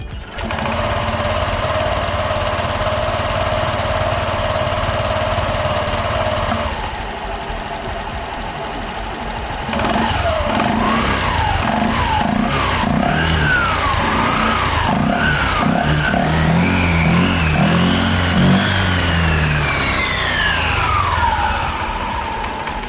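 A Honda Click scooter with a freshly cleaned CVT starts and runs loud and close, its engine buzzing steadily, with the pitch swooping up and down repeatedly as the throttle is blipped and revved.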